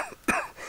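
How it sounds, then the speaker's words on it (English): A single sharp cough bursts out alone, fairly close and loud, with quiet room tone before and after it. "if you excuse me coughing"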